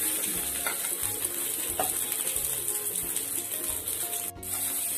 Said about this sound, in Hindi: गाजर को भी फ्राई कर ले रहे हैं